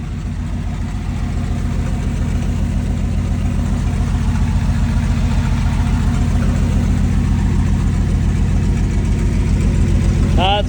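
A Hurst car's engine runs steadily at a loud, rumbling idle close by, a continuous low throb lasting throughout with a slight rise in intensity.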